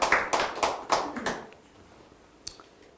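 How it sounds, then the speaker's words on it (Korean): Audience at a church seminar claps in a short, lively burst that thins out and fades within about a second and a half, leaving quiet with one stray late clap. "우리 박수로 한번 영광 돌립시다."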